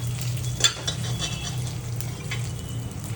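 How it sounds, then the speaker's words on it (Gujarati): Dried red chillies and peanuts dry-roasting and being stirred in a pan over a low gas flame for a curry leaf chutney: soft continuous rustling and scraping with a faint sizzle, close and steady, plus a low background hum. "આ બધાને બરોબર શેકી દેવાનું અને ગેસ એકદમ ધીમો રાખવાનો"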